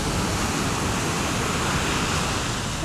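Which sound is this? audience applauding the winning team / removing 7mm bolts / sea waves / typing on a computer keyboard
sea waves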